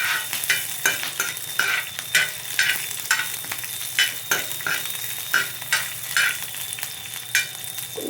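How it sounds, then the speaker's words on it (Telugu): Curry leaves frying in hot tempering oil, a steady sizzle broken by repeated bursts of crackling spatter as they are stirred, close and alone with no voices. "ఇక్కడ కరివేపాకు మంచిగా వేగాలి, టేస్ట్ బాగుంటుంది"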